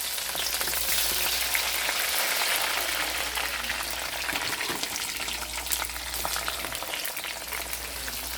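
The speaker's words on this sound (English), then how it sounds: "Then we are going to saute that maybe for 1 minute or so." Cassava with carrots and spices sautéing in a pan crackles with a loud, dense, continuous frying sizzle that fills the whole stretch, with no talking.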